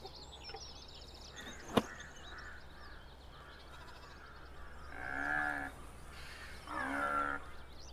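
A buffalo lets out two drawn-out lowing calls, moderately close over a quiet, steady background, after a single sharp knock earlier on.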